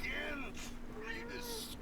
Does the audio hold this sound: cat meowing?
yes